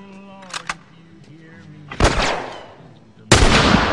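Gunfire in The Last of Us comes as two sharp near shots in quick succession, followed by two louder booming blasts with long decaying tails. Faint game sounds sit between the shots, and no one talks.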